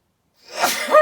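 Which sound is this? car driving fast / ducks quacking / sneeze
sneeze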